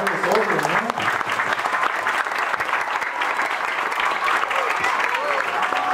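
An audience at a school event applauds the mothers, sustained dense clapping from many hands with a few voices heard at the start, steady and fairly loud throughout.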